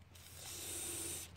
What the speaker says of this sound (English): then we'll spray it with some kind of lubricant, silicone lubricant